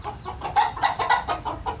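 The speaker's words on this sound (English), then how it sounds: "I can actually hear chickens and roosters" Chickens and roosters cluck in a steady run of short, rhythmic calls at a farm enclosure in Kuala Lumpur, Malaysia, fairly close and clear with no talking over them.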